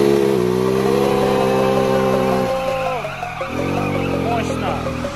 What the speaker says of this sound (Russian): Итак, сейчас будет вилли